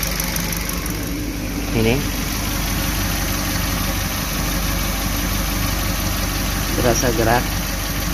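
A Suzuki New Carry engine idles steadily after a timing chain replacement and overheating repair, a continuous low hum with a faint vibrating rattle running beneath someone speaking close by.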